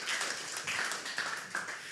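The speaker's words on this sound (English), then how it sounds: "Can we have a round of applause to the organizers?" Audience at a cybersecurity meetup gives the organizers a round of applause, a faint, fairly distant wash of many hands clapping continuously with no voices on top.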